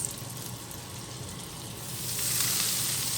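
Fresh butter melts in a hot pan with a steady close sizzle that swells slightly louder toward the end, no talking.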